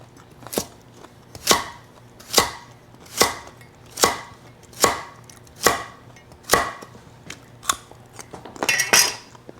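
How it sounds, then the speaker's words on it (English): A knife slices carrots on the bias against a cutting board, with about a dozen crisp, evenly spaced chops in a steady rhythm, close and clear with no talking. "I like to do a cut on the bias here with my carrots."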